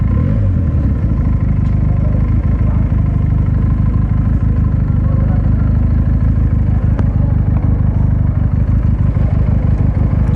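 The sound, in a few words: Benelli motorcycle engine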